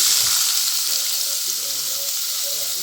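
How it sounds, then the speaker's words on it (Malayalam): Sliced onions fry in hot coconut oil in a pan, giving a steady, close, hissing sizzle that continues without a break. "ഇനി അതിലേക്ക് ഞാൻ ഈ മുറിച്ച് വെച്ച് ഉള്ളി ഇടുകയാണ്"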